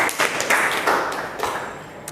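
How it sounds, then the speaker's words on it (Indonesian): A class of students gives a few scattered, uneven claps for classmates after a lesson on Pascal's law, short separate bursts of hand claps in a classroom with almost no talking. "Tepuk tangan dong buat teman kalian"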